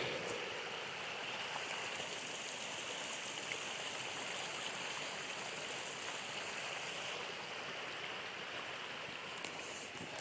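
Creek water rushing steadily along a bushwhacked trail, a continuous broadband wash of flowing and trickling water close by, with no voices.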